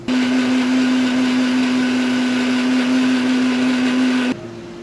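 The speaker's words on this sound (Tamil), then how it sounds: "இது எல்லாம் மிக்சியில் அரைக்கணும்." A mixer grinder runs at full speed grinding masala for salmon fish biryani, giving a loud, steady motor whine that holds for about four seconds and then cuts off.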